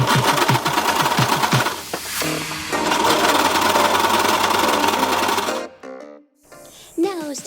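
A sewing machine stitches the crotch seam of patchwork bandana shorts, its fast rhythmic needle clatter running nearly continuously before stopping, followed by quiet handling and a brief voice.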